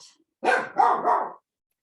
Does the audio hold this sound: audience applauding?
no